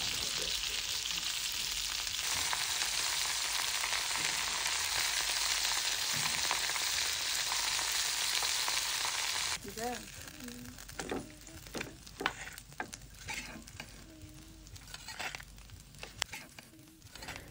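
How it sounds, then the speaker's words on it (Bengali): Pieces of boal catfish fry in hot oil, a dense steady sizzle at first, then quieter crackling broken by scraping and turning sounds as the fish is flipped in the pan. "প্রথমে বোয়াল মাছের টুকরোগুলো ভেজে নিচ্ছি।"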